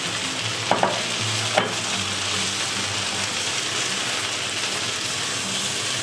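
Pre-boiled broccoli tossed and stirred in a hot frying pan, giving a steady, close sizzle throughout with a couple of brief clanks of utensil against the pan.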